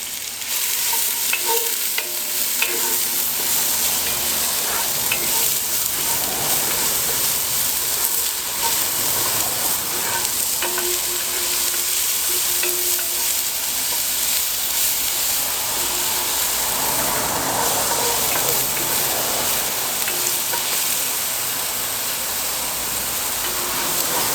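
Onion frying in a hot, smoking camp pan, a loud continuous sizzle with scraping and stirring sounds from a utensil running throughout, close up.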